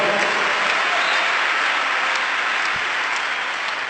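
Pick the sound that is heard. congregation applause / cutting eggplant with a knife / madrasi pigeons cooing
congregation applause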